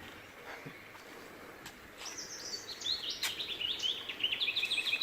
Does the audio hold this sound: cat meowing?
no